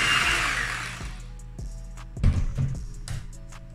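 An electric mixer whirs through cake batter as butter is worked in, loud for about a second before cutting off, followed by a few knocks and clatters of the bowl.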